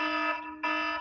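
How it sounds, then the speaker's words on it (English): A personal alarm beeps loudly and steadily, a bright electronic tone sounding in two long pulses with a brief gap between them, heard alone with no talk. "No, that's my alarm."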